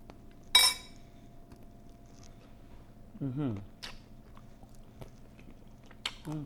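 Someone eats tortilla soup topped with sour cream and corn chips, with a sharp crunch of a chip, faint chewing, and a light clink of spoon on bowl in a quiet room, with brief vocal sounds between bites.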